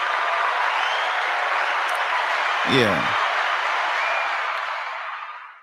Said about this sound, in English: Let me give you a round of applause for that.